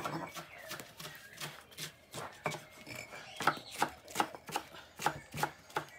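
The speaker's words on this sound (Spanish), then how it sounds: "Yo voy a empezar a picar la lechuga" Knife chopping lettuce on a cutting board, a run of crisp, regular thuds that grows louder and sharper toward the end, with soft rubbing and rustling of leaves between strokes.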